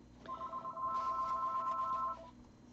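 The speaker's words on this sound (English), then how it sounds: "Sorry about that, phone rings." A telephone rings once in a room, a steady electronic trill lasting about two seconds, moderately loud and heard alone with no talk, against a faint room background.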